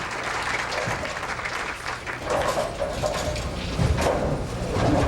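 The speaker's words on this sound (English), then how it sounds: "She has everyone applauding." A sports crowd applauds at an event, a broad, sustained clapping swell that rises and falls slightly over several seconds, with some murmur mixed in but no clear talk.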